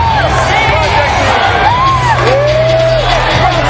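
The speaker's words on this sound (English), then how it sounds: "Hearing it, I would say, rather mildly from the crowd as he comes into view." Boxing arena crowd at a Holyfield–Toney heavyweight bout cheering, whooping and yelling as a fighter comes into view, a dense continuous roar with rising shouts, loud and close.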